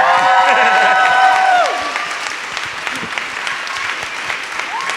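An audience at a speaking event featuring Ice-T applauds steadily, dense clapping filling the space, with a few cheers and a sustained tone fading out early on.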